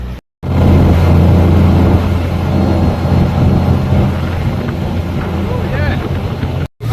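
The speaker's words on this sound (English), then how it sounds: "Taking shelter from the spray because it's quite windy." Strong wind buffets the microphone in a continuous loud roar, mixed with the rumble of a boat engine underneath, aboard a boat taking spray at Hamble.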